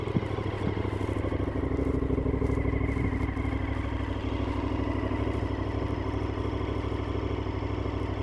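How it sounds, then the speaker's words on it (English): KTM 1290 Super Adventure motorcycle engine running steadily while riding, a loud, close, continuous mechanical drone with a constant hum and light rattly texture throughout. "Super Adventure KTM 1290 adventure bike"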